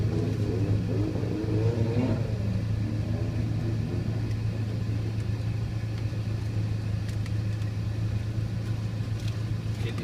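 Continuous low engine rumble from a car on a track day lap in a Peugeot 307, steady and droning from inside the cabin, with faint muffled voices early on.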